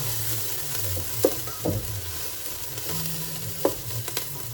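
A spoon stirs Mexican rice in a pan over low frying sizzle, with a few distinct scraping clacks against the pan and a low steady hum underneath, no talking.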